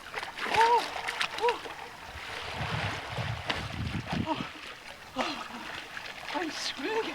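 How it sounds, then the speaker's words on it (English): A person swims alone in a lake in February, with irregular splashing and water sloshing close to the microphone, broken by strained gasping vocal noises, whoops and a little wind noise. "I'm swimming in a lake on my own in February."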